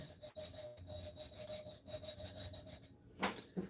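Sandpaper is rubbed over a tumbler in quick back-and-forth strokes, a soft rasping scrape repeating in a steady rhythm, close by, with one sharper scuff near the end and no speech.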